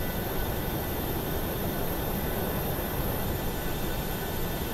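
A fixed-wing airplane climbs out after takeoff with flaps retracted, its engine and airflow a steady, loud broadband roar heard from inside the cabin, unbroken and without talk.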